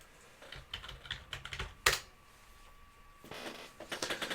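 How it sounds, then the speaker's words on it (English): Typing on a computer keyboard, heard as bursts of quick clicking keystrokes, near and fairly faint, with a brief pause in the middle and no talk. "If I can get my typing correct."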